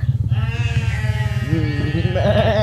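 Goats bleat loudly near a goat pen at a trail entrance on Mount Lawu, giving drawn-out wavering cries over a low rumbling background. No one speaks.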